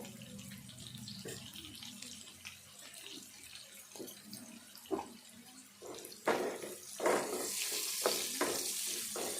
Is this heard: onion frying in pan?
yes